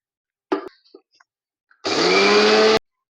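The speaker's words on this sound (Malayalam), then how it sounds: "ഇനി ഇത് പൊടിച്ചെടുക്കാം ജാറിലേക്ക് രണ്ട് ഏലക്കയും ഒരു നുള്ളുപ്പും കൂടി ഇട്ട് കൊടുക്കുന്നുണ്ട്" A mixer grinder grinds rice with cardamom and a pinch of salt, running loud and steady for about a second after a few brief knocks and clatters of loading the jar, then cutting off abruptly.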